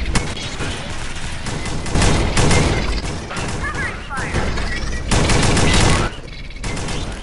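Dense, continuous gunfire rattles loudly in the top-down shooter game Alien Swarm, with rapid bursts and booms against swarming enemies, while a player talks over the shooting.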